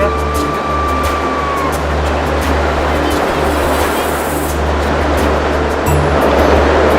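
A river's current rushes past nearby in a loud, steady, unbroken wash of water noise that fills the whole stretch.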